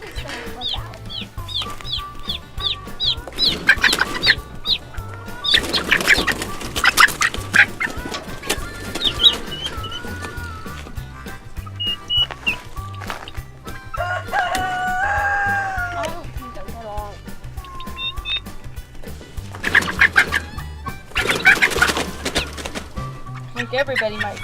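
Farm turkeys cluck and gobble in a series of short calls, some clustered and some drawn out, close by over steady outdoor background noise, while people talk at intervals.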